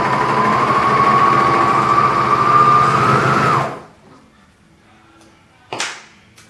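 A sewing machine stitches a seam in a loud, steady whirring run that stops abruptly, followed by near silence and a brief mechanical clack.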